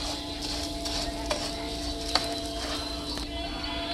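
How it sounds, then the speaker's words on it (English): Rice browning in a pan is stirred with a utensil: soft scraping and a few sharp clinks over a low, steady sizzle, close and with no voices. "So I'm going to go ahead and give it a stir."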